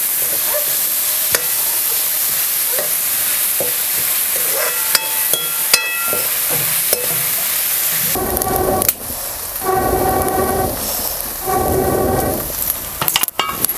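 Onion and tomato stir-fry in a pan, a loud continuous sizzle with clattering spatula scrapes and knocks against the metal, growing busier and harsher in the second half.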